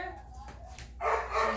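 A Rhodesian Ridgeback puppy gives a short burst of barking during a puppy examination. The sound is brief and fairly close, rising over low background noise in the last half-second.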